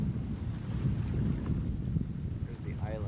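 Heavy wind blowing over open water with whitecaps, a strong, steady low rumble of wind buffeting the microphone, with faint water wash underneath.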